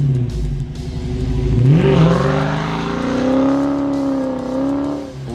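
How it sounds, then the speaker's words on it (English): A Dodge Challenger T/A 392 with its 6.4L SRT HEMI V8 revs up from a low rumble into a loud, sustained, throaty drone, holding steady before easing off. "the rumble of the big V8 is your constant companion for the trip"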